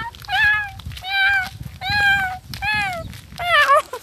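A person's voice imitates a dying cat, giving five drawn-out, wailing meows in a row, each bending in pitch, loud and close.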